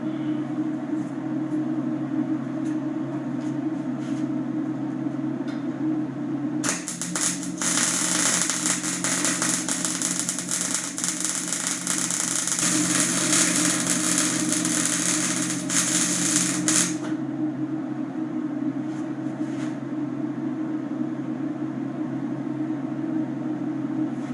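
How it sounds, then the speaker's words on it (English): Welding 2-inch steel tubing onto the back of an ATV snow plow frame: a loud, steady crackling arc runs for about ten seconds in the middle, with a constant low machine hum before and after. "welding on the piece of 2-inch tubular for the back of the plow frame is done"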